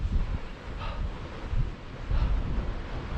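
Wind on Fur Tor, a high open moorland tor on Dartmoor, buffeting the microphone in low rumbling gusts that swell and ease over a few seconds, no voices.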